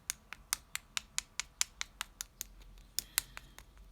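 Acrylic nails tap in a quick, regular series of about eighteen sharp, crisp clicks, close and fairly quiet, with a slight double-tap near the end.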